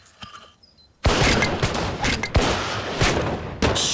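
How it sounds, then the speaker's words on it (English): Arquebuses fire in a volley, a quiet start breaking into a loud, roaring burst of overlapping matchlock shots, followed by two more sharp blasts close to the listener. "The strength of the arquebus comes in volley shot."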